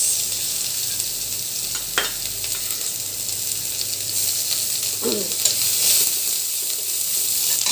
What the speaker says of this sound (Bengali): পেঁয়াজটা ভেজে নেব পেঁয়াজটা ভেজে নিচ্ছে